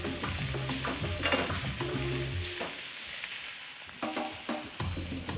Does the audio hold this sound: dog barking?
no